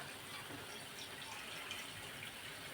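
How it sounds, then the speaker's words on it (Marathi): A steady gush of water pours continuously into a pan, a soft even stream with no talking. "इकडे आपण या कढईमध्ये पाणी टाकून घेणार आहोत"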